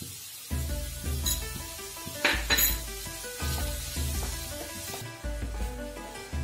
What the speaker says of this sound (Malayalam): സവോള ഇങ്ങനെ വഴറ്റിക്കൊണ്ടിരിക്കുക ഉപ്പിട്ടിട്ട്, അപ്പൊ പെട്ടെന്ന് കഴിയും